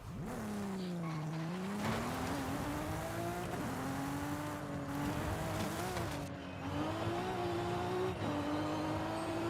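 A turbocharged or supercharged race car in a video game, its engine holding a droning, rising-and-falling tone with tyre squeal and skidding through corners, steady and fairly quiet.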